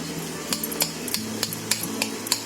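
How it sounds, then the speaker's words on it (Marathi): A spoon stirs potato vegetable curry in a cooking pot, with irregular clanks and scrapes against the metal sides over a soft kitchen background, and no voices. "चांगली ढवळून घेते."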